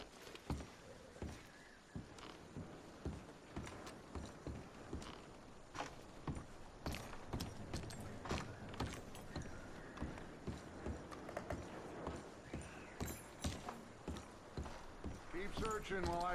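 Horses clip-clop steadily at a walk through the Red Dead Redemption 2 game world, the hoof beats repeating in a regular rhythm beneath a continuous background bed, with occasional mechanical rattles mixed in.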